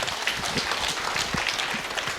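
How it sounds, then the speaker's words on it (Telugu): A crowd at a meditation-society celebration claps steadily, a dense wash of hand claps with no pauses, moderately loud throughout. "గట్టి క్లాప్స్ అండి"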